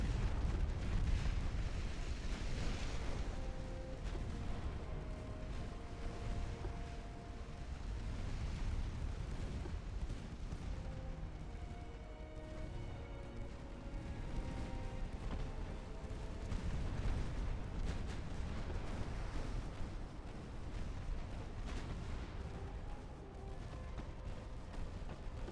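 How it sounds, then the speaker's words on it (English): Battleship main guns firing armour-piercing shells in Ultimate Admiral: Dreadnoughts, a steady rumble of distant naval salvos and booms rolling on continuously over a low background roar, with no talk. "your main guns are supposed to be firing AP"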